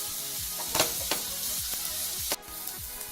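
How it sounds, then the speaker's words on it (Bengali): Ginger-garlic paste fries with onions in a pan for a dhaba-style paneer do pyaza, with a spatula scraping in regular strokes over continuous sizzling, close up with no talk. "এবার আমি আদা রসুন বাটা দিচ্ছি 1 টেবিল চামচ। এবং যতক্ষণ না রসুন আর আদার কাঁচা গন্ধটা থাকছে ততক্ষণ আমি কষে নেব।"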